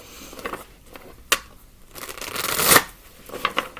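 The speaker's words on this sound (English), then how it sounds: "let's give them a good shuffle" Tarot cards shuffled by hand in a run of soft, papery riffling bursts, building to a louder flurry near the end, with no talking.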